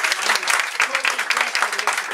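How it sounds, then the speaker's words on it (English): A small crowd of Democratic supporters at a campaign gathering in a private home in Newton, Jasper County, gives a warm, continuous round of applause for the volunteers, loud and close throughout. "A big round of applause for everybody."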